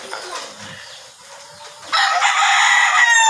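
Gamecock roosters crow loudly and close by, several long calls overlapping, with softer clucking and fowl noises before the crowing swells.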